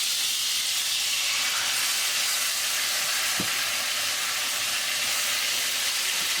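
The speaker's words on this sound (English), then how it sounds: "we're just browning the pork chops, good and brown." Pork chops browning in a pan on a home stove, a steady, loud sizzle and hiss of frying fat running continuously with no talk.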